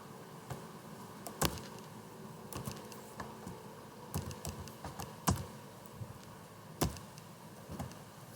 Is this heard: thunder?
no